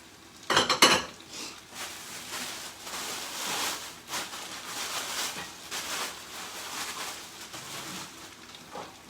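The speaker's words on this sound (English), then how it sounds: "we can go ahead and get these dishes put up from last night" Dishes, pots and cutlery clatter and clink steadily in a home kitchen as they are put away, with a loud burst of clanking near the start followed by continuous rattling and scraping.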